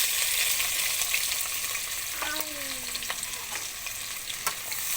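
Onion and chili fry in hot oil in a pan, a continuous close hiss of sizzling with stirring, plus a brief whistling tone near the middle.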